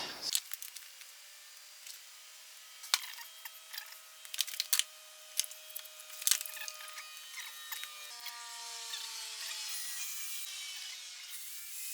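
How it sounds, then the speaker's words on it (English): Screws are driven through glued wooden pieces of a camper van kitchen unit, with a soft motor whine, scattered woody creaks and clicks, quiet and close, and no voices. "I'm going to put some screws through it from this end"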